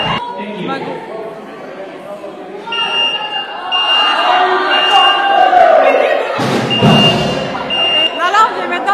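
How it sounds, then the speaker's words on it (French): Fire alarm going off indoors, a loud shrill buzzing tone that sounds repeatedly while people talk and a crowd murmurs, with thumps in between. "L'alarme vient maintenant de sonner pour la 3e fois."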